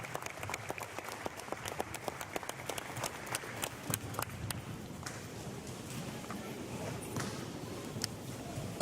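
Crowd applause at an anniversary ceremony for Villa Angela, Argentina: dense, steady clapping for about five seconds, then fading into scattered claps and murmuring.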